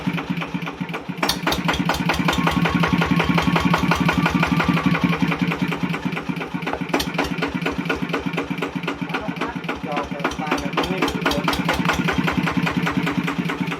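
A ZT180 motorcycle engine idles with a steady, loud, rapid thumping exhaust pulse that stays close and continuous, with people talking faintly in the background.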